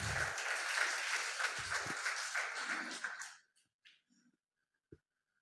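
Church congregation claps together in a dense burst of applause for about three seconds, then it stops, leaving a few faint knocks and one sharp thud in near silence.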